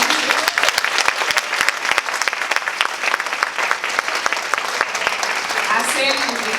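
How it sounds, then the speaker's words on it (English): Sustained applause from a conference audience, dense and steady across the whole stretch, with voices faintly mixed in beneath the clapping. "give yourself a round of applause"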